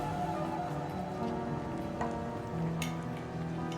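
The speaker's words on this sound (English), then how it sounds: "The rain lashes against the windows." Rain lashing against windows in a video game, a steady soft patter and hiss with a few faint clicks and a low hum underneath, no voices.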